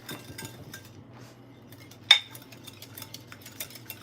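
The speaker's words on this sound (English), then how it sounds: "I'll start the process of whisking my garlic" A whisk clinking against a bowl while beating fresh garlic and egg yolk for Caesar dressing, with quiet rapid taps throughout and one sharp metallic clink near the middle, close and alone.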